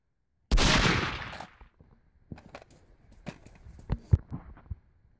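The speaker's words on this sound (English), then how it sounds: "You shot him with a gun." A single loud gunshot cracks out near, its sharp report decaying over about a second, followed by quieter scattered thumps and knocks with no talking.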